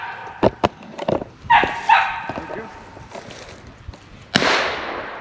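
A squirrel dog out hunting at a tree gives a few sharp, yippy barks and whines in short bursts, close by, with rustling and a sudden loud crack near the end.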